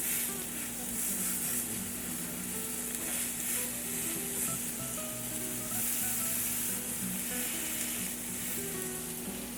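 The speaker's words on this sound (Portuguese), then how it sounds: "A gente vai dourar de todos os lados dessa carne" Meat browning in a hot pan gives off a steady, dense sizzle and crackle that stays level throughout, close and fairly quiet, with faint stirring noises and no talk.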